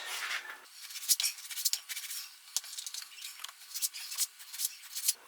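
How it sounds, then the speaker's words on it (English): A knife cuts British lamb against the grain into thin slivers, giving a run of quiet, irregular scraping and snipping strokes close up on a silent background. "So I'm just going to cut that against the grain into little slivers."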